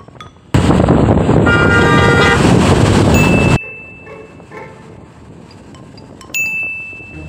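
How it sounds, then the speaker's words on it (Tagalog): A car horn on a road blares loudly in one long sustained honk of about three seconds, close by, followed by quieter traffic and a faint shorter toot near the end. "Yung kotse na yun, yung bumusina sa atin."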